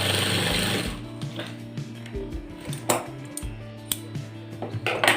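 A sewing machine stitches the band on a shirt sleeve, running in short bursts with pauses and light clicks of handling between runs, close and fairly loud.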